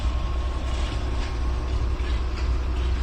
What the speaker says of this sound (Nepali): यही हो छुकछुके रेल भने यही हो सामान बोक्ने